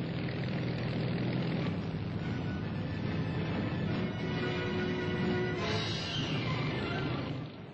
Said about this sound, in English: The Ventura, an American-built machine developed from the famous and most successful Hudson, though faster and of greater endurance